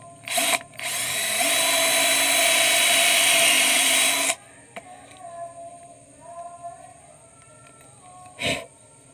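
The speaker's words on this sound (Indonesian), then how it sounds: "Untuk kita lubangi lagi." A power drill boring holes in a 2-inch swing-type hydram pump waste valve part whines loudly and steadily for about four seconds, then stops, leaving quieter handling noises and a brief final burst of clatter.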